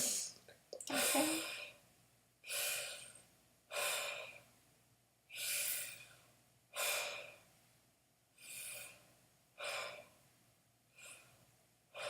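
A patient takes repeated deep breaths for a chest and lung assessment, with about eight slow, even inhale-exhale cycles that are close and breathy and have short pauses between them. No one speaks.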